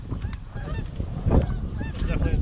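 Geese honk repeatedly over outdoor wind noise during a twelve-person goose hunt, with several overlapping calls spread across the whole stretch, some louder and nearer than others.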